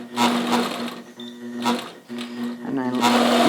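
Sewing machine doing free-motion quilting of a feather design with the stitch regulator on, running in bursts as a steady mechanical hum beneath a person talking throughout.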